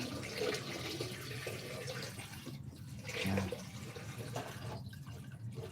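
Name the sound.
water draining out of house pipes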